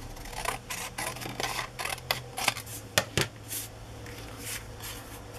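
Scissors cut fabric at an angle to shape a layered, scalloped pocket, giving a series of close, crisp snips and slicing crunches in irregular bursts, with a few sharper clicks and no talk.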